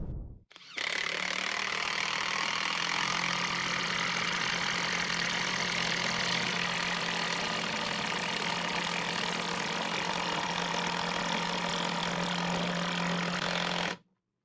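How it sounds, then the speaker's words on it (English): A Maxmore 20V mid-torque impact wrench drives a large, fat bolt into a 6x6 timber, hammering loudly and continuously at close range for about thirteen seconds before cutting off abruptly. "We're gonna see if these impact wrenches can drive fat boy all the way into the 6x6"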